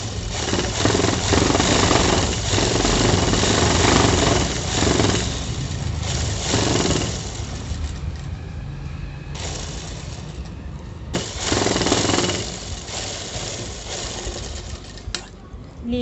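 A sewing machine stitches the side seam of a palazzo with a steady, close, whirring mechanical drone in long runs, briefly easing off between passes before starting up again.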